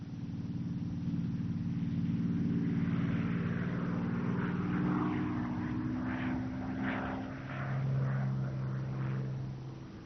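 A Supermarine Spitfire fighter passes overhead with a steady droning propeller engine that swells and shifts pitch, heard alone on an old, band-limited recording.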